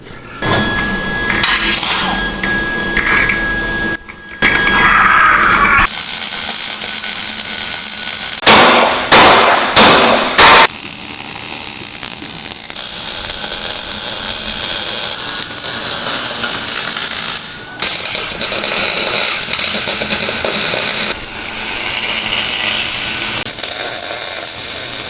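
Welding on the frame of a 1951 Henry J during custom fabrication, loud crackling, sputtering arc bursts broken by short gaps, with metallic clanks near the start and no talking.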